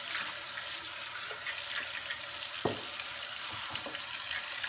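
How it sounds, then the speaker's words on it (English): Cold tap water runs steadily while canning jars are rinsed in a sink, a constant hissing splash with occasional clinks and knocks of glass, fairly close and without talk. "So in the rinsing stage, I like to use just cold water"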